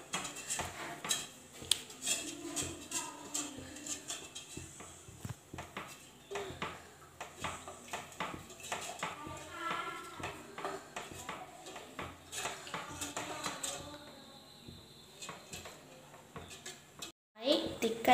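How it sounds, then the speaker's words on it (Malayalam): A spoon clatters steadily against a pan while coffee powder pudding is stirred on the stove, making rhythmic scraping and tapping, with someone talking over it nearly throughout. "ഇളക്കാതെ ഇരിക്കരുത്"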